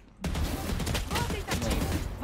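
Sudden rapid gunfire in Valorant starts after a brief silence and continues as fast, steady shots. Talking can be heard under the gunfire.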